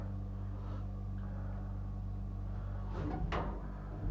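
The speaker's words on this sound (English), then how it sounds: "Doors are going open on this side on the first floor." Lift doors at a shopping centre slide open on the first floor, with a soft rattle and a brief clunk near the end, over a steady low machinery hum in an indoor space.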